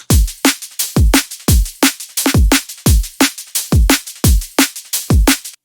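Full drum and bass drum pattern programmed in FL Studio, punchy kicks and snares with hats and ride in a fast driving groove, loud and dense with no voices.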